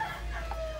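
A rooster crows in one brief, fairly faint call with a rising tone over low background noise.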